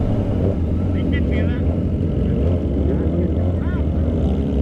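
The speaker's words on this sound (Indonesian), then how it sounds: "bacot banget knalpot." A loud motorcycle exhaust on a long group trail ride with a riding club gives a steady, close, heavy rumble throughout, with voices talking over it.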